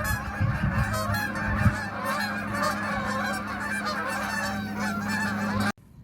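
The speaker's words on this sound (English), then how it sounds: "Right after those geese went overhead" A flock of geese honks repeatedly and loudly overhead, a dense, continuous chorus of calls that cuts off abruptly near the end.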